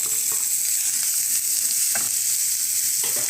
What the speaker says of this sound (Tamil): இப்போ நம்ம வெட்டி வச்சுருக்க வெங்காயம், தக்காளி, மிளகா எல்லாத்தையும் சேர்த்துருங்க